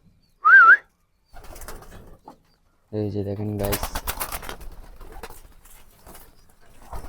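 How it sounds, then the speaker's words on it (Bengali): Pigeons at feeding time, with wheat grain being scattered for them, give a short call near the start. A person then talks over the rest, with faint bird sounds in the background. "সব কবুতর ঠিক আছে"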